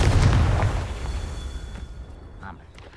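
A Confringo fire spell detonates in the Hogwarts Legacy video game, starting with a loud, deep explosive boom that slowly decays into a rumbling tail with faint crackles.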